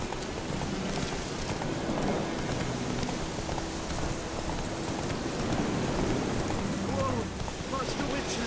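Horse Roach gallops in The Witcher 3 with a steady clip-clop of hooves under rain and outdoor ambience, while a voice speaks over it.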